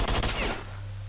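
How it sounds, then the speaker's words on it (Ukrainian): Gunfire in the video game S.T.A.L.K.E.R.: Shadow of Chernobyl, a short loud burst of rapid shots that cuts off after half a second into a low rumble. "Хто там стріляє?"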